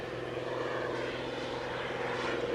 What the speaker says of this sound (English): Notice all the different plane styles and notice in different ways that they can fly.